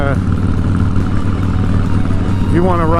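A Harley motorcycle engine idles with a deep, steady rumble, then near the end revs upward in a rising sweep toward almost 7,000 rpm, loud and close.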